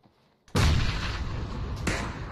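Heavy gunfire and blasts in a shooter video game, a loud sudden burst after a near-silent start, then sustained rumbling with a second sharp report near the end.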